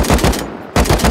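Rapid automatic gunfire in the game Rust, aimed at a helicopter: loud, close, continuous bursts that briefly stop for a moment and then resume just as intensely.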